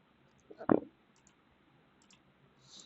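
A single sharp computer mouse click lands close up early on, followed by faint scattered ticks over a quiet background.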